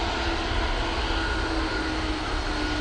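A Ryanair airliner arrives at Manchester Airport, its engines a steady, broad roar that holds at an even loudness from start to finish with no voices over it.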